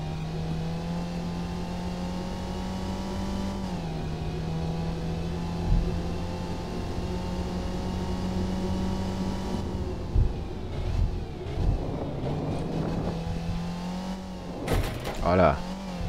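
A car engine hums steadily in the Stunt Rally racing game, holding a constant pitch, then dropping and changing as the car accelerates, followed by scattered knocks and thumps of impacts and a few bursts near the end as someone talks.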